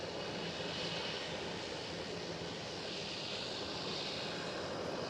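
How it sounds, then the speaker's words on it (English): A KLM Boeing Dreamliner jet arrives at Amsterdam Schiphol airport, its engines producing a steady, loud broadband roar that holds evenly throughout with no talking. "KLM Dreamliner arriving right now"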